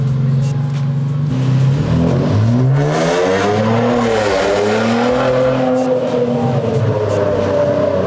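A Nissan Z sports car accelerating hard on a test drive, its loud engine note climbing and falling through gear changes in rising sweeps, close and continuous throughout.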